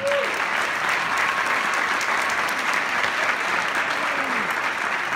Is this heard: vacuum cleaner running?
no